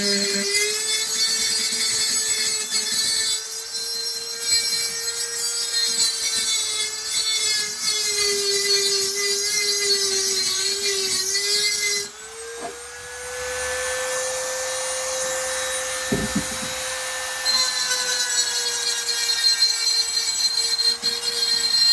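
Burrs get cleaned off metal with a steady, high-pitched whining tool that runs continuously at close range, dipping briefly midway before resuming its tonal drone.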